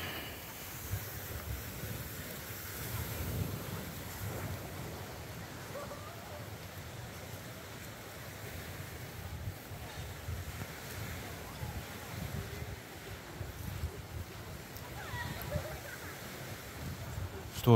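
Waves wash steadily onto the shore at Mogren beach in Montenegro in June, a soft continuous rumbling surf with some wind noise, heard at a distance and fairly faint.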